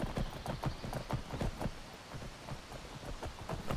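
A horse trotting in Skyrim, its hooves clip-clopping in a quick, steady rhythm at moderate volume throughout, with no talk.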